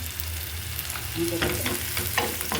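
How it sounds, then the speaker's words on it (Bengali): Chopped onions fry in hot oil with a lightly salted, steady close sizzle, joined partway through by a few scraping stir strokes against the pan; no one speaks. "সুন্দর করে ভেজে নিচ্ছি"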